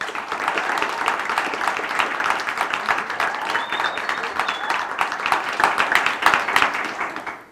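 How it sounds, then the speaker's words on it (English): A studio audience gives a round of applause, steady and moderately loud, with individual claps blending into a continuous patter that holds throughout before cutting off at the end. "Everyone, if you would please give Sylvia a round of applause for her courage to tell her story."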